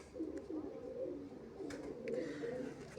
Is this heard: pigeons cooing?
yes